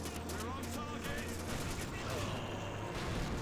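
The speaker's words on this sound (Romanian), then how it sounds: "Dă cu mitraliera în ei." Machine gun fire in the Call of Duty 2 video game during a tank mission comes as dense, rapid rattling bursts that run loud and continuous through the clip, with no clear talk over it.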